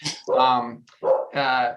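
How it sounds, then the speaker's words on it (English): A dog in an indoor room gives a few sharp, loud barks close by, with short pauses between them and no talking. "my dog is barking in the room"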